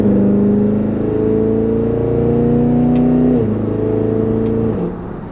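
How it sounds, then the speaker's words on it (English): A 6,400-pound Cadillac Escalade V ESV engine revs loud and close, holding a steady rising drone before dropping sharply on a downshift and settling lower near the end, with no talk over it. "I'm going to downshift here."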